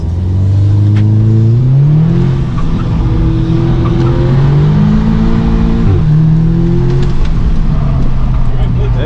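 A 2017 Audi S3 in sport mode pulls hard while held in second gear on an autocross course, its engine note rising and falling through repeated revving surges, loud and close throughout.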